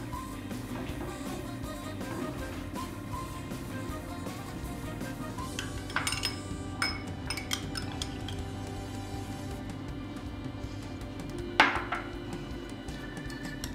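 A salad dressed with oil is tossed in a bowl, giving soft clinks and scrapes of utensils against the dish over a steady low kitchen hum, with one sharper clink near the end.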